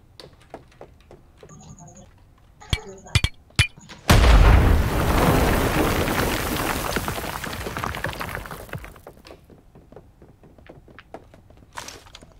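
A grenade blast in the online shooter Badlanders, a sudden loud boom followed by a long rumbling decay, with sharp gunshots and thuds before and after and players talking over the action.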